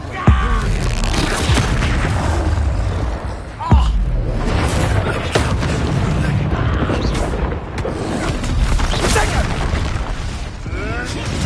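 Spellcasting combat in the video game Hogwarts Legacy, with an Incendio fire spell: sharp booming bursts and whooshes at about the start and a few seconds in, over a dense, continuous game soundscape.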